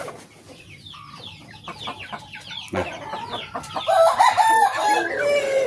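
A rooster crows several times amid clucking hens and other fowl, including seven-month-old pullets ready for breeding, close by, growing louder and busier toward the end.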